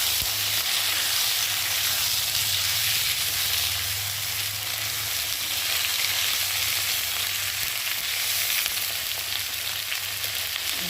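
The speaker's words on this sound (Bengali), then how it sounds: "এবার দিয়ে দেবো কেটে রাখা আলু বেগুনগুলোকে, ভালো করে ভেজে নেব।" Cut potatoes and eggplant frying in oil in a pan give a steady, loud, close sizzle and hiss that carries on without a break, over a low background hum.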